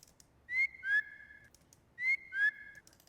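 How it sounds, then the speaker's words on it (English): A synthesized woodwind-style whistle lead from a Serum jungle preset for producing a hip-hop beat, playing two repeating phrases of two short rising, sliding notes each, clear and alone. "I basically use this woodwind jungle preset from Splice on Serum"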